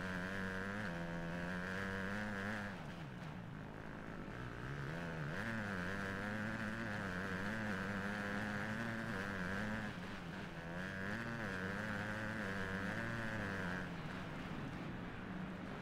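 Motocross bike engine from the MXGP 2020 video game, a steady droning whine that holds a constant pitch with slight wavering revs throughout, loud and continuous with no talking.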